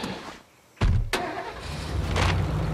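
A car engine in the zombie survival game State of Decay cranks and catches with a sudden loud burst, then settles into a steady, close running drone as the vehicle pulls away.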